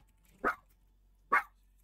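A dog barks twice, close by, with evenly spaced sharp woofs about a second apart over a quiet background hum.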